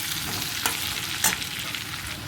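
Potatoes sauté with salt and turmeric in a pan, a continuous close sizzle with a couple of brief stirring scrapes.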